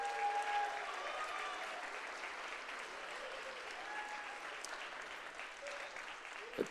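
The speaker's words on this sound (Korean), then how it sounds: "여러분들, 예, 박수로 한번 환영해 주시죠." Faint, distant applause welcoming performers onstage at a church musical event, a steady soft patter of clapping under light background noise.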